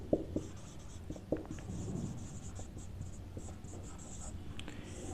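Scratchy strokes of writing on a board in a physics classroom, a few sharp taps followed by steady scraping, close and fairly quiet over a low background hum.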